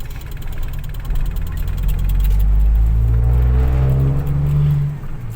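Car engine running steadily while driving, a loud low rumble throughout that swells in the middle with a rising drone.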